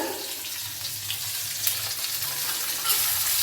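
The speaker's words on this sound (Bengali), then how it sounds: "এই পেঁয়াজ কুচোগুলো কিন্তু এই তেলের মধ্যে দিয়ে দিলাম" Medium-sized chopped onions sizzle in hot oil, making a continuous bright hiss with small crackles that grows a little louder toward the end, with no talking.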